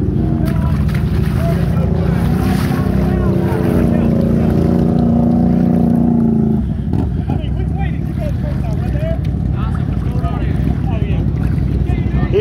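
Powersports vehicle on an outdoor ride in Texas, its engine held at high revs against the rev limiter in a loud, steady droning whine that drops off about halfway through and continues as a rough, lower roar with wind noise.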